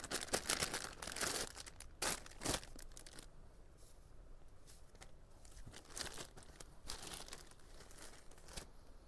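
A brown linen saree is unwrapped from its packaging, producing close, crisp crinkling and tearing of plastic wrap in quick bursts that soften midway, with no voice over it.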